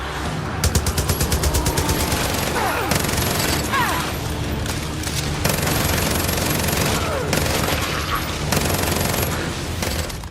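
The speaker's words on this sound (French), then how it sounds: "Une explosion par-ci, une explosion par-là." Gunfire and explosions from the Far Cry 5 zombie DLC, dense continuous bursts of shots with booms layered throughout, loud and close with no pauses.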